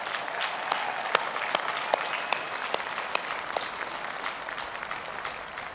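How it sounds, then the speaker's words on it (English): Graduation crowd at the University of Virginia's Class of 2021 final exercises gives a big round of applause for faculty and staff, dense continuous clapping with scattered sharper claps standing out nearby. "Please join me in giving our faculty and staff a huge round of applause."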